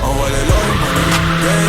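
A car pulls away hard, its tires squealing and skidding under a loud, close engine roar in a short, intense burst.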